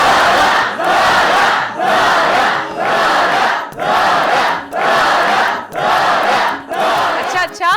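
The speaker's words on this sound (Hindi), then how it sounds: "बस कर दो तालियां" Live stand-up comedy audience clapping and cheering loudly in a packed hall, swelling in repeated waves of roaring applause with no speech over it.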